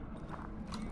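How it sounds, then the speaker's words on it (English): Footsteps in the horror game Darkwood, a soft clopping of steps heard faintly under a dull, steady background drone. "I hear footsteps."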